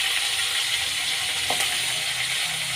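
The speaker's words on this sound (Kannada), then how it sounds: "ಮೆಣಸಿನ್ಕಾಯಿ ಚೆನ್ನಾಗಿ ಫ್ರೈ ಆಗಲಿ" Green chillies and curry leaves frying in hot oil with cumin and mustard seeds, giving a steady, loud, continuous sizzle with a brief crackle partway through.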